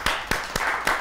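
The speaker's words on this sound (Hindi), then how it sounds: "तालियां बजाएंगे" Four sharp, evenly spaced claps ring out close and clear with little else around them, a brief burst of applause honouring a kulfi seller.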